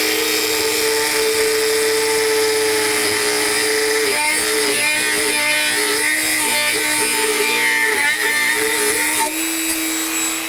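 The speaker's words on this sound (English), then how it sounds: "once it's cut off, we're going to go over to the grinder and shape it" Bench grinder shaping a small metal cutting tool, a loud, continuous high whine with shifting pitch as the metal is pressed against the wheel, running steadily with no talk.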